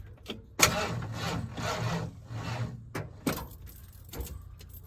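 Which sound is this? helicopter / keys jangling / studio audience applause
keys jangling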